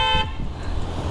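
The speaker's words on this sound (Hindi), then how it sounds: "अब मैं आपको सुनाता हूँ इसका हॉर्न" Aftermarket horn fitted to a Benelli TRK 502X motorcycle blares in one loud, sustained toot, then cuts off, leaving a quiet background.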